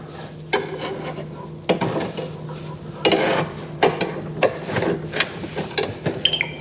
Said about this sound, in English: I'm just going to use this butter knife just to slide it in there.